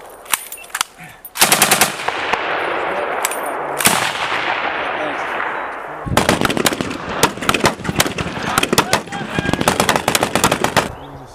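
US Marines firing guns outdoors: loud, close bursts of rapid automatic fire with short pauses between volleys, then a long stretch of sustained firing toward the end.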